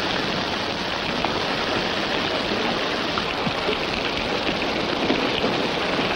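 Steady rain falls in a Wild West movie scene, a dense, even hiss with scattered drops pattering nearby, continuous and unbroken with no voices.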